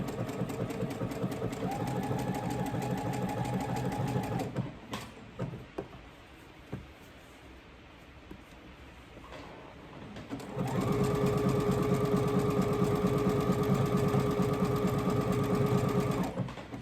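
Sewing machine stitching a seam on a raglan shirt, a close, fast steady whirring hum that runs for several seconds, pauses with a few soft clicks and handling sounds, then resumes just as loud.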